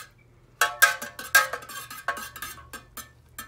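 Metal spoon stirring against a metal pot while making a soy candle: a run of sharp, bright clinks and scrapes, loud at first and then settling into a steady rhythm of lighter taps, close by with no talking.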